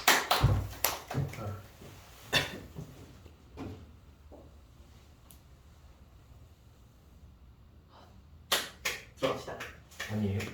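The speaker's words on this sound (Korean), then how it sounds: "박수!" Bursts of hand clapping from a small group in a calculus class at the start and again near the end, with a quiet stretch and some talking between.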